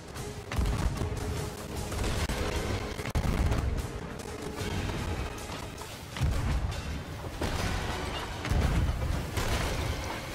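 Cannon fire in the pirate video game Sea of Thieves, a rolling series of heavy booms and thuds recurring every couple of seconds amid battle noise, with no talk over it.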